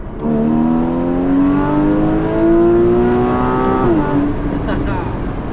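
Porsche Cayman GTS 981 engine holds a steady, loud harmonic drone that rises gradually, then drops sharply near the end as the revs fall, with faint voices mixed underneath.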